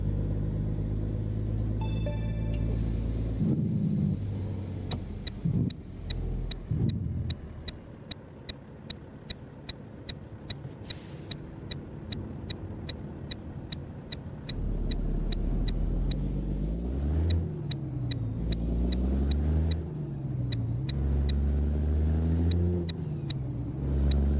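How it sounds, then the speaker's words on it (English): A truck in American Truck Simulator drones with a low engine rumble that dips and climbs through gear shifts, with brief air hisses between shifts and steady ticking along the way, no voices. "There's some nice blow-up sounds here when we're shifting."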